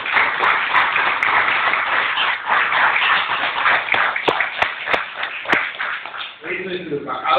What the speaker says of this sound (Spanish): pide un aplauso, Jorge, por favor